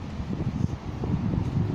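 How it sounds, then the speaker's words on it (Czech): Wind blowing outdoors, a steady rough rumble of gusts buffeting the microphone, loud and close, with no voices. "A ono fouká."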